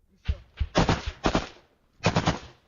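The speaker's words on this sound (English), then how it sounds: "But we can hear some return fire here, showing that the Russians are trying to rear up and continue to advance down this trench." Russian soldiers in a trench return fire in rapid automatic bursts, four or five loud, close volleys with short gaps between them.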